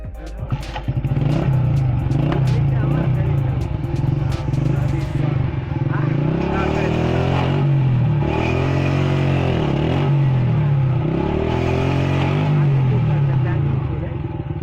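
Loud droning motorcycle engine with a rhythmic, wavering grinding as the sharpened rear wheel rim, tyre removed, saws through wood, clattering at first, with voices under the noise.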